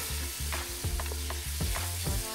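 Ground cumin paste and a little turmeric are stirred in a hot frying pan, making several quick, rhythmic scraping strokes over a bright sizzle in a short burst, with no speech.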